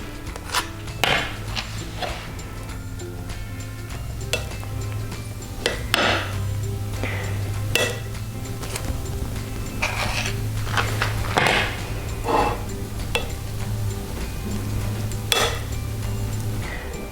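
A knife scrapes and taps against a plate and cake while buttercream is spread, giving repeated close metallic clinks and rasping strokes over a steady low hum.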